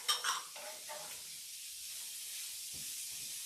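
A spoon scrapes and clinks in a pan as sugar is stirred into a chicken marsala sauce, a few bright clatters at the start giving way to a soft, steady sizzle and hiss.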